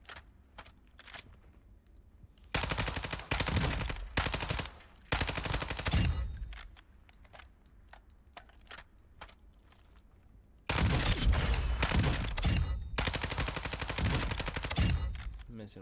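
Bursts of video game gunfire in two long loud stretches, rapid automatic fire mixed with single sharp shots, separated by quieter gaps of scattered isolated shots.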